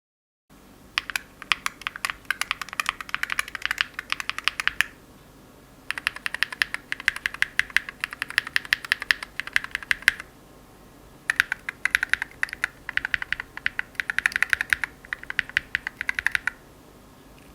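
Rapid typing on a Keychron Q1 HE 8K mechanical keyboard with Hall Effect magnetic switches: dense, crisp key clacks arrive in three bursts of several seconds each, separated by short pauses, close and clear with no talking.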